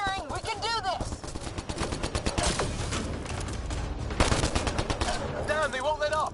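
Rapid automatic gunfire in Mass Effect: Andromeda, dense rattling bursts throughout with a sharp crack near the middle, while combat voices and chirping creature cries sound alongside.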